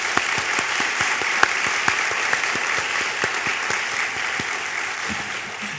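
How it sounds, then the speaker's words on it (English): Audience at an anniversary celebration gives steady, even applause for the staff, a full round of many hands clapping that continues without pause. "join me in a round of applause for the CPO staff that have done this"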